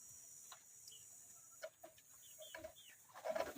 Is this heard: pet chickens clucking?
yes